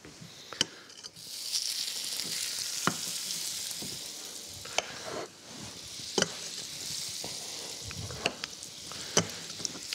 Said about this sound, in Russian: Сливочное масло сейчас растопится.